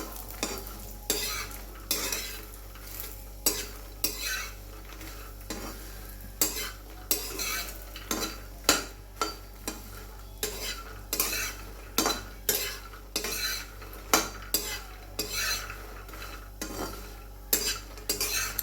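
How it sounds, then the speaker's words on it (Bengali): Makhana (fox nuts) frying in a pan of ghee with two small green cardamom pods, stirred with a spoon that scrapes and clinks against the pan in an irregular rhythm over a steady low sizzle, with no talking. "তারপরে আমি মাখানাগুলো দিয়ে দিলাম, দিয়ে ভেজে নিচ্ছি।"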